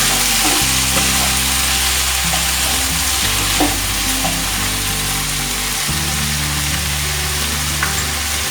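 Dried-chili paste fries in a pan while being stirred, giving a loud, steady sizzle with scraping and clinking strokes over a low background music bed, and no voices.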